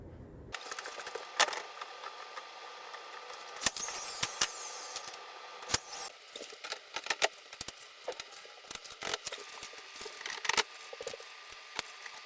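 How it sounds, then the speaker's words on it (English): A window shutter being fitted over a blackout honeycomb shade, giving scattered clicks, snaps and mechanical clacks against a steady background hiss, close by and without speech. "Now we're going to install our shutter."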